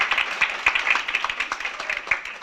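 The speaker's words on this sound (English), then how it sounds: "Give them a round of applause." An audience in a meeting room applauds, a dense, steady patter of many hands clapping at moderate distance for the whole stretch.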